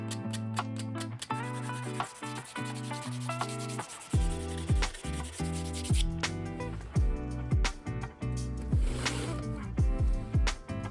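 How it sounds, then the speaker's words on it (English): Rhythmic rasping strokes of sandpaper rubbing against plastic cable channeling, repeated back and forth at close range, fast at first then in longer sweeps. "sanding down the cut lines and back of the channeling to give a rough surface"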